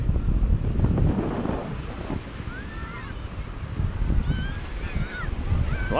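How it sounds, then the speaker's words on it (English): Strong wind gusts across a rough, crowded beach with surf churning, loud steady buffeting and roar, while a few high honking or squealing calls, likely geese or kids, cut through in the middle and end. "Plenty of wind."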